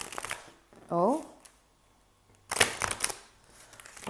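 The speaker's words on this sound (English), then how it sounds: "that wasn't a very successful riffle shuffle, was it?" A short, unsuccessful riffle shuffle of a tarot card deck crackles in quick bursts at close range, after a brief exclaiming voice.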